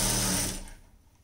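A sewing machine stitching folded underwear cloth gives a brief close whirring run that quickly fades and stops within about a second.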